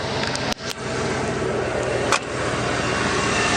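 A car engine idles steadily up close with a low, even hum, broken by a few sharp clicks or knocks, no voices.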